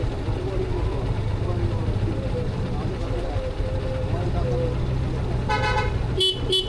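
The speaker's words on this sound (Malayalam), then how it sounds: "ഞാൻ 1-2 തവണ ഹോൺ അടിച്ചു" A car horn gives a couple of short toots near the end, close by, over the steady idling rumble of engines in queued traffic at a railway crossing on a Kerala road.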